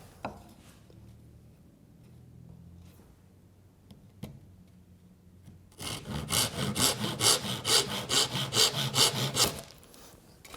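A hand saw cuts a tenon on a wooden rafter tail: a quiet stretch of faint handling gives way to loud, rapid, rhythmic back-and-forth sawing strokes close up, about a dozen in a row, then it stops.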